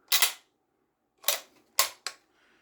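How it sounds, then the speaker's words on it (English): Lee Enfield No 4 Mk 1 rifle bolt worked by hand, three or four sharp metallic clacks in quick succession, close and crisp, with short gaps between them and no talking. "The bolt acts as it should."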